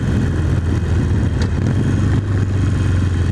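A Harley-Davidson motorcycle engine idling close by, a steady low throbbing putter with a slight rise and fall in revs.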